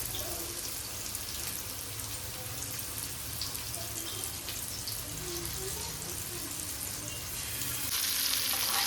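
Fish fried in a pan with crushed garlic, Agri-Koli style, gives a steady, fairly quiet sizzle throughout that grows a little brighter and louder at the end.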